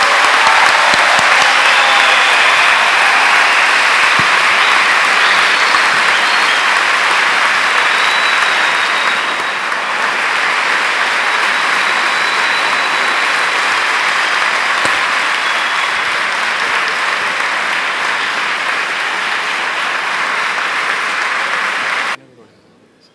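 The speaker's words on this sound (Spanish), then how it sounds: "En el aplauso a la compañera Armán" Long, loud, sustained applause from a large crowd at a socialist political rally, dense and unbroken for over twenty seconds before cutting off abruptly.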